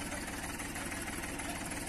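A Massey Ferguson tractor engine runs at a steady idle, close and loud, with a continuous low rumble and no speech.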